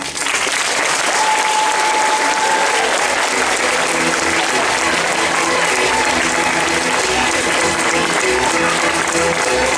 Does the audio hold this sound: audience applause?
yes